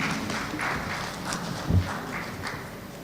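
Applause breaks out in a conference hall at a Nigerian inter-ministerial summit, the audience clapping for a speaker invited to deliver the welcome address: a steady, moderately distant patter of many hands with no voices over it.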